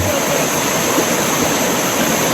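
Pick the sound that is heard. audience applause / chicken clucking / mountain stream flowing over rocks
mountain stream flowing over rocks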